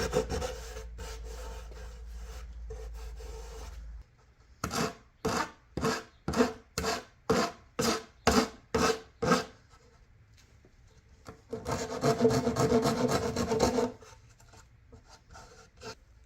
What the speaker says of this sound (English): Okay, the rest I can sand.